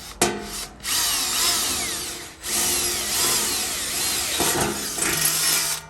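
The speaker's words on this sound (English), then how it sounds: "We are going to be using a black and gold bit for this. Pretty soft steel, something no big deal." Power drill fitted with a black-and-gold bit boring quarter-inch holes in soft steel shelving, a loud, close, grinding whine that runs in long bursts with a couple of brief pauses in between, no speech.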